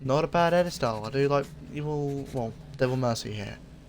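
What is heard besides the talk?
No everyday noises stand out.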